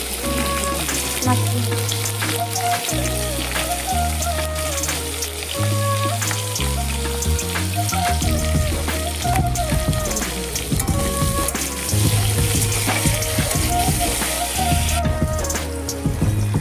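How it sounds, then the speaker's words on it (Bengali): Pumpkin pieces fry in hot oil in a wok with salt and turmeric, giving a steady, close sizzle that runs the whole way under background music. "এখানে আমি মিষ্টি কুমড়োগুলো ভেজে নেবো। নুন আর হলুদ দিয়ে লালচি করে ভেজে নেবো।"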